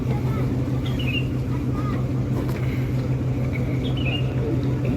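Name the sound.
klotok motorboat engine chugging, Banjarmasin floating market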